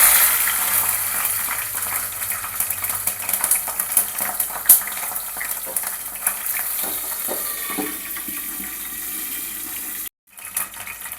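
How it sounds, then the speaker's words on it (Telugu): Curry leaves dropped into hot oil already frying cumin seeds for beerakaya (ridge gourd) chutney, a loud, steady crackling sizzle close by that drops out abruptly near the end. "ఇప్పుడైతే కరివేపాకు వేసుకుందాం."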